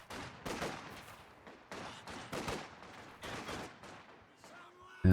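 MG42 machine gun firing in a World War II video game match, rapid bursts of sharp gunfire with scattered other shots, moderately loud and irregular, ending in a sudden louder noise.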